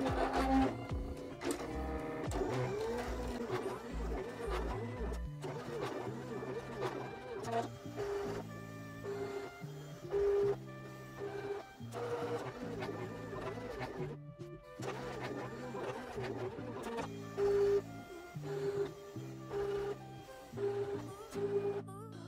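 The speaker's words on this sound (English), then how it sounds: "It's just going to cut it like a regular cut." Electronic cutting machine cutting card at speed 8 in two passes: a close, continuous motorised whir and buzz with stepping tones and brief pauses as the carriage changes direction.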